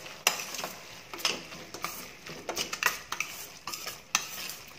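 Tomato biryani masala sautéed in oil or ghee, stirred with a metal spoon: repeated close scraping clatters against the pan in an uneven rhythm over a faint sizzle.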